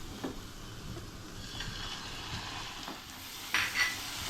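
Schezwan sauce frying and being stirred in a hot pan, with a continuous close sizzle broken by scraping strokes of a spoon and a sharper clatter near the end.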